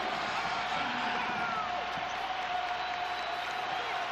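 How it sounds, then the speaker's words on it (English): Crowd noise at a Pittsburgh Panthers basketball game against Villanova, a broad, steady roar with applause and cheering that holds loud throughout, with faint voices mixed in. "the crowd has gotten up off their hands and started putting them together for this Pittsburgh Panther team"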